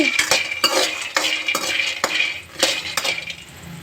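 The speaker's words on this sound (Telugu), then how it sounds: "సిమ్లో వేయించుకోవాలండి" Food frying in a pan over a low flame, stirred with a metal spoon that scrapes and clinks against the pan in regular strokes, close and fairly loud over a faint background, no talk.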